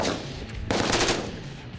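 A rapid burst of gunfire, sharp cracks rolling into one another over a noisy background, moderately loud and close.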